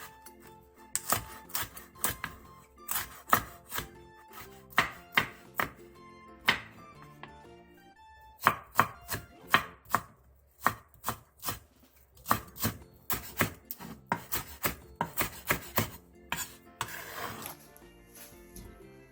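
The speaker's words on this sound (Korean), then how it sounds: "양파 4분의 1개를 채 썰고 청양고추 2개, 홍고추 1개, 대파 2분의 1개는 어슷썰기 해주세요." Quarter onion, green and red chili peppers and half a green onion sliced with a knife on a cutting board, crisp rapid chops in irregular bursts with brief pauses, close and clear.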